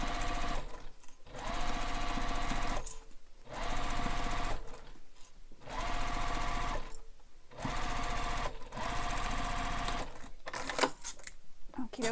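A sewing machine stitches a beach bag seam with backstitching in rapid whirring bursts of a few seconds each, separated by short pauses, close and steady, with faint talk in the background.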